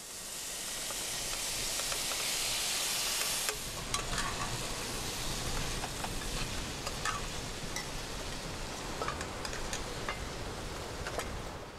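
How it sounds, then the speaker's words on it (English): Ackee sizzles gently in vegetable oil with a sautéed vegetable spice mix, a steady close frying hiss with small crackles and pops throughout, louder and brighter for the first few seconds. "Now, just mildly sizzling for a while"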